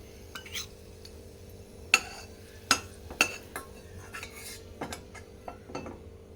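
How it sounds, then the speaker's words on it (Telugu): A metal spoon clinks and scrapes against a pan while charoli nuts fry in ghee, with a few sharp, close knocks and lighter taps spread irregularly over a faint background. "కొన్ని సారా పలుకులు ఫ్రై చేసుకుందాం"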